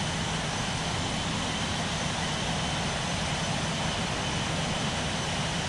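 A jet airliner's engines roar in a dense, steady wash of broadband noise during takeoff at Orlando International Airport, loud and unbroken throughout with no voices.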